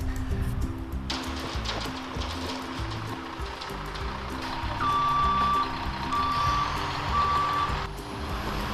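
A concrete truck arrives at a homestead pour site, its reversing alarm beeping in a steady repeated pattern over the loud rumble of the idling truck engine, with no talk.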